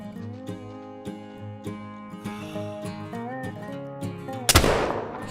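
A single loud, sharp rifle shot in the hunting game theHunter: Call of the Wild cracks out near the end, after a stretch of melodic background music.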